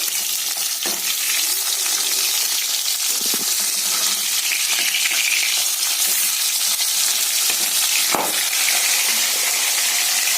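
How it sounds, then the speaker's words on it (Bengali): Hilsa fish frying in hot oil, with a loud continuous sizzle and crackle close by, broken by a few scraping and clinking sounds as the fish is flipped. "এই মাছটা আমি এবার উল্টে নেবো। এক পিঠ ভাজা হয়ে গেছে।"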